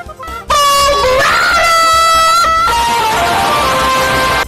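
A loud, bright synthetic whoosh with rising and wavering harmonic tones, like a blaring electronic horn blast sweeping through for several seconds; a sound wave effect from a Brawl Stars skin.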